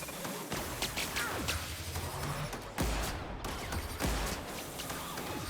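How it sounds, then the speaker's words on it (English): Rapid bursts of heavy energy-weapon fire from a plasma cannon in the sci-fi shooter The Outer Worlds, repeated blasts rolling over a dense, loud combat din with no talking. "Plasma cannon gun thingy works nicely though."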